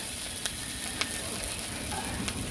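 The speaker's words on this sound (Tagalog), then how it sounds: "Buti pa yung sibuyas niluluto." Onion sizzling in a pan over a gas flame while tinola chicken soup is prepared in a rural home kitchen. A steady, close frying hiss runs throughout with a few faint clicks and no speech.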